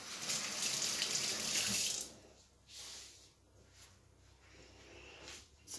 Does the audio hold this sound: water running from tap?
yes